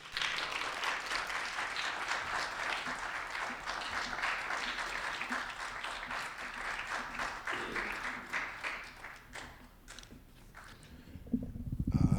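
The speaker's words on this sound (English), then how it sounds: "Please give a round of applause for Peculiar Eye." An audience applauds a poet at a Black literary event in Durham, with dense sustained clapping for about ten seconds that thins out near the end.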